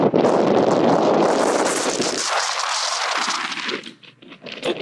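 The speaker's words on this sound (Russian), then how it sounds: "Тут довольно сильный ветер." Strong wind gusts roar across a microphone on a mountain top beside an old fortress, loud broadband buffeting that eases toward the end into lighter, uneven rumbles.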